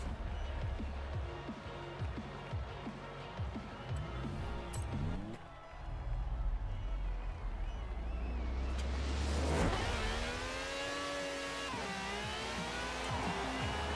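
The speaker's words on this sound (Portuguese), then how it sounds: "parece barulho de Lamborghini" A Lamborghini engine in the Forza Horizon 4 racing game revs and roars through repeated gear shifts, a sustained loud mechanical drone climbing and dropping in pitch, with a sharp surge midway and a wailing high rev near the end.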